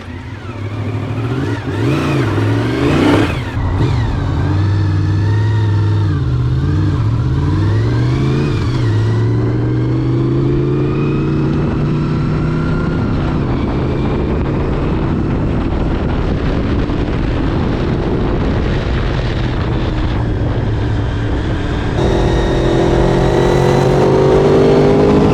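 Honda VFR 750 motorcycle engine revving continuously on a ride, rising and falling through gear changes with steady wind noise over the microphone, loud and close throughout.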